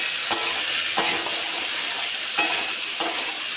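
Potatoes stirred in a pan of hot oil, with a steady sizzle running throughout and four sharp scraping clacks of the utensil spaced unevenly across the stretch, close and moderately loud with no voices.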